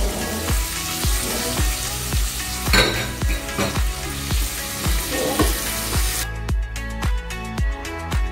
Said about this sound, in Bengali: And then just let the butter melt, adding the chopped onions